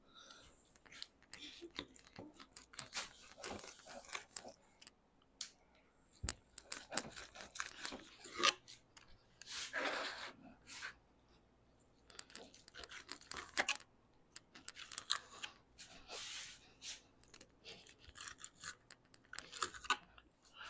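A knife cuts boned wild hog meat into bite-sized chunks, making a steady run of close, crisp slicing and tapping clicks in irregular bursts, quiet, with occasional faint voice in the background.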